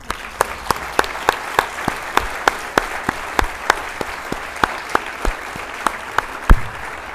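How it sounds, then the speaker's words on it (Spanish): An audience at an economic forum applauds, with sharp claps falling in a steady, almost rhythmic beat over a continuous bed of crowd clapping. The sound is loud and close, with no speech over it. "Empecemos con un aplauso porque estamos de vuelta."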